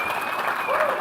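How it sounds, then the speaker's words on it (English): Applause from a conference audience celebrating a new MVP award, a brief, steady burst of clapping with voices mixed in. "I'd like a round of applause"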